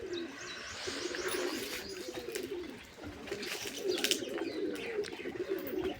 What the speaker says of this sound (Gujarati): આપણા વ્હાઈટ કબૂતર અહીંયા મસ્તી મારે છે